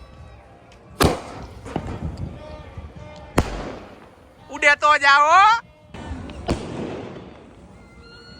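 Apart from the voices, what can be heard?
firecrackers going off for Uttarayan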